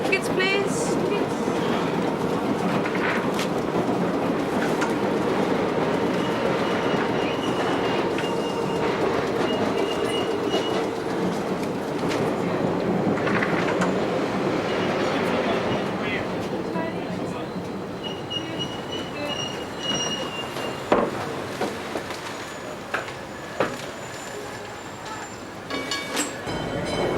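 A passenger train rumbles steadily along the tracks, a loud continuous roar with clattering and occasional squeals, while voices talk over it inside the carriage.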